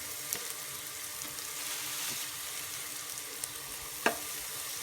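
Cumin seeds sizzling in hot oil for zeera rice, a steady broadband fry hiss with a few small pops and one sharper crackle near the end, fairly quiet and continuous with no talking.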